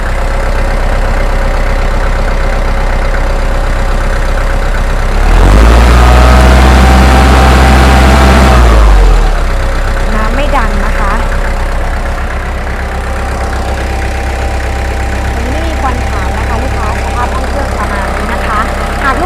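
A reconditioned Kubota L4508 tractor engine idles with a steady low throb, then revs louder for a few seconds midway before settling back to idle. Someone speaks over it.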